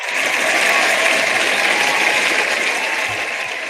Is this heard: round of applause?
yes